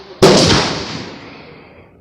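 Single loud rifle gunshot at an outdoor shooting range, a sharp sudden blast followed by a long fading echo and no voices.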